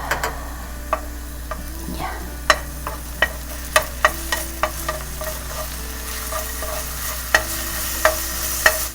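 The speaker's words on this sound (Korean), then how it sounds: "자, 이제 재료를 볶을 건데요. 여기 이제 마늘 좀 넣어갖고 마늘 향 좀 올려갖고" Chopped garlic sizzles softly in a hot pan for kimchi fish cake japchae while a utensil stirs it, leaving sharp scattered clicks and taps against the pan over a steady low hiss.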